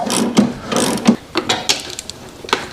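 A ratchet wrench loosening the rear brake caliper bolts on an Indian motorcycle, several short bursts of close, sharp clicking between brief pauses.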